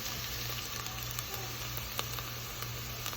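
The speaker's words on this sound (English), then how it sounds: "So fry this up a little bit, get all the flavors going." Onion-flavored oil frying in a pan, a steady close sizzle with soft crackles running unbroken throughout, no voices.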